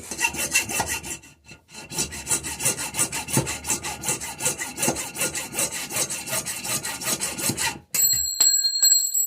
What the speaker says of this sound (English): and then hacksaw this off